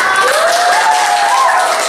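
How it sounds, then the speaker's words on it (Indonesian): Students in a classroom applaud loudly and steadily, a dense close wash of clapping with a few whistled tones rising through it, and no talk. "Tepuk tangannya dong."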